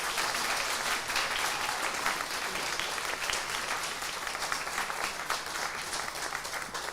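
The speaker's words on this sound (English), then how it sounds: "another round of applause, please" Sustained audience applause fills an awards ceremony for learning disabilities and autism leaders, a dense, steady wash of many hands clapping at full strength throughout, with no voices rising above it.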